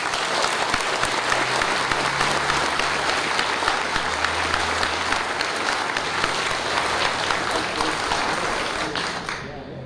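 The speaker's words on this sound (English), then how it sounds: "Let's give them a round of applause." Sustained audience applause fills a World War II submarine veterans memorial ceremony, dense and even throughout before tapering slightly at the end.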